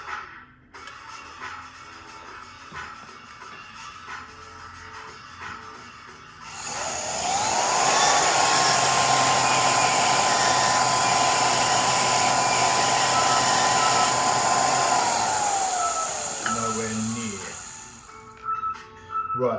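Power tool cutting through 8mm sterling silver tubing for barbell components, a steady loud whine that rises in pitch, holds for several seconds and then drops away, preceded by quieter workshop noise.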